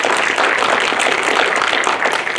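Audience applause at a city council and mayoral candidate forum in a theater, a steady, loud wash of clapping that fills the entire short stretch without pause.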